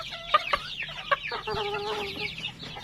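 Chickens including a Japanese Bantam hen cluck on a farm, with several short clucks and calls close by in a quick, uneven series.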